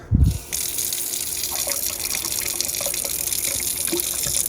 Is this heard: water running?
yes